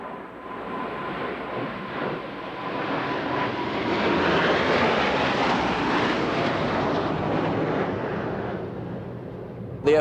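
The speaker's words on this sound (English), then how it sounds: "Blue Angel Diamond will momentarily be making its approach from the right." Four US Navy Blue Angels F-18 jets fly in tight diamond formation at an air show, a broad roar that swells as they approach and passes overhead, then fades slightly.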